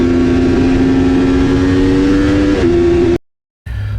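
Racing motorcycle engine held at high revs on a race circuit, a loud sustained whine that steps slightly in pitch before cutting out abruptly, then returning.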